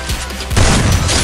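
Gunfire from jump headshots in a mobile battle-royale style shooting game, a burst of loud shots and booms that grows denser in the second half, close and punchy with no talk.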